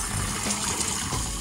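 Water running from a tap on a boat, let run over the side: a brief, steady splashing trickle, close and fairly loud, with no voices.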